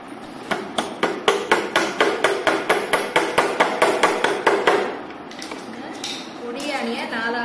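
Small nails are hammered into a painting frame in about twenty quick, sharp taps with an even rhythm, close by. A voice comes in briefly near the end.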